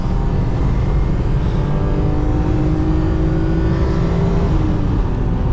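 A BMW M3 E36 is driven hard at the limit on a race circuit. Its engine roars loud and close without a break, the pitch rising and shifting as it revs and pulls.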